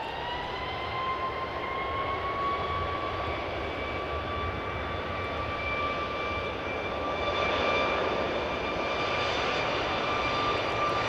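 A Delta jet airliner at Dallas Love Field, just landed from Phoenix, gives off a steady, loud engine roar with a sustained high whine that holds throughout and swells slightly near the end. There is no talk.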